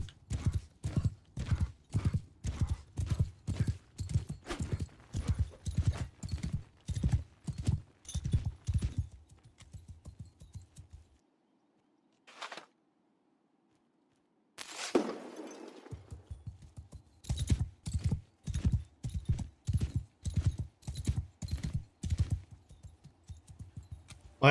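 Horse hooves clip-clop in rapid, regular galloping beats in Mount and Blade II: Bannerlord, loud and close, pausing briefly around a sharp clatter before the steady hoofbeats resume.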